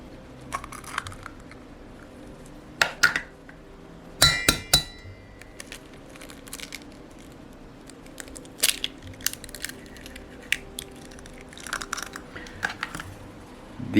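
Cage-free store-bought eggs cracked into a glass bowl for keto pumpkin bread, with a few sharp cracks and clinks spread out over quiet kitchen stretches, close and crisp.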